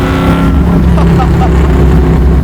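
A supercharged Chevy Camaro pro-touring build roars loudly and steadily at around half throttle, a dense continuous engine drone held near 3,500 RPM with a faint voice under it.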